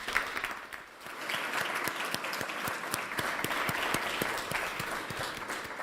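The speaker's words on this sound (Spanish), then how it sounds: "El aplauso que va a llegar no es para nosotros, es para ustedes." Sustained audience applause fills a conference hall at an opening session in Madrid, dense and even, with a few sharper individual claps standing out close by.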